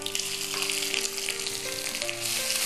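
Spices and curry leaves sizzle and crackle loudly in very hot oil in a pan, a dense continuous frying hiss heard up close without talk.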